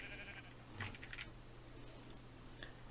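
A Minecraft sheep gives a short, faint bleat once against a steady low hum, followed by a few soft clicks like keys or mouse taps.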